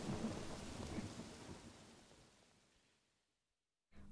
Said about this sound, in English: The storm continued for 20 minutes.